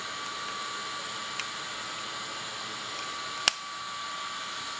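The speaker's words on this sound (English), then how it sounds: "this is what I'm gonna use to vacuum" A steady high-pitched whirring motor hum from a cordless pet grooming vacuum picking up dog hair runs throughout, with a couple of sharp clicks.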